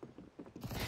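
A weapon reloads in a video game: a quick run of soft mechanical clicks and creaks, close and fairly quiet, lasting under a second.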